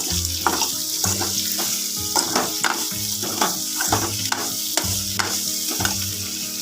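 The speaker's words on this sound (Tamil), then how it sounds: "நல்லா எண்ணெயில் வதங்கி சூப்பராக இருக்கும்" Ingredients for sambar sauté in hot oil with a steady close sizzle, while a spoon stirs in a regular rhythm and scrapes the pan about once a second.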